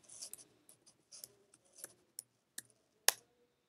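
Quiet, sparse keystrokes on a computer keyboard while entering a subnet mask during a Cisco FMC setup on VMware, a handful of separate taps ending in one sharper press.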